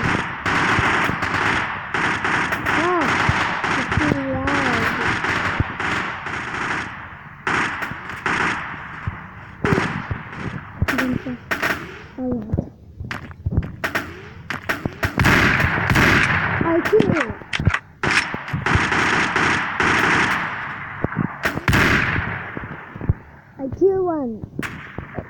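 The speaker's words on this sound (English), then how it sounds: "I'm good at shooting a shotgun." Rapid, loud gunfire from a shotgun in the Special Forces video game, with dense bursts of shots repeating through the whole stretch alongside other game effects and occasional brief voice sounds.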